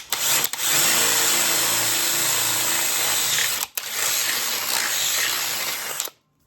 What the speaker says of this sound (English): we can take a drill bit that's the same size as the bolts that we're going to be using, and we can drill it out